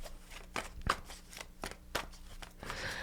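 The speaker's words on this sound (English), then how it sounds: "let's go ahead and pull out your oracle cards" Oracle cards being handled and shuffled, a series of soft riffling flicks and slaps in an uneven rhythm, close and fairly quiet with no talking.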